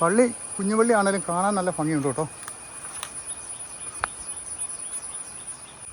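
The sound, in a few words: crickets chirping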